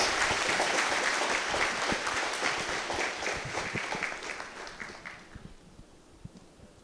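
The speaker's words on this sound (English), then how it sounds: "Shall we all give her a round of applause?" Sustained applause from an audience at a student council investiture ceremony, dense clapping that starts loud and gradually thins and fades toward the end.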